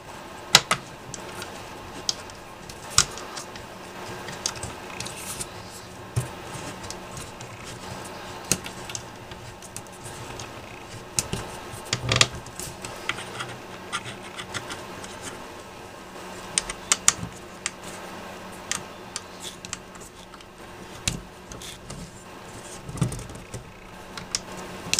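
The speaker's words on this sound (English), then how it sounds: "We're going to just put them right through the Y idler and bolt them down into the aluminum extrusion." M5 bolts are driven through a 3D printer's Y idler into aluminum extrusion, with scattered small metallic clicks and taps, close and fairly quiet, spread irregularly over a steady low background.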